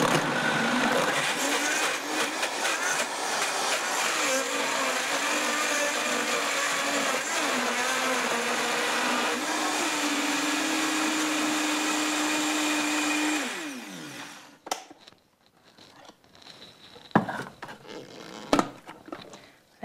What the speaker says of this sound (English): Make sure your blender can handle ice.